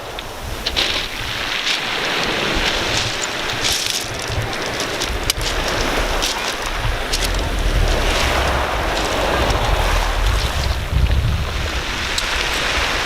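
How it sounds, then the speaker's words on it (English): Ocean waves wash steadily onto the shore at Bainet, Haiti, a continuous broadband roar of surf with swelling surges and wind, no talking. "Take a listen to that ocean. Listen to the waves."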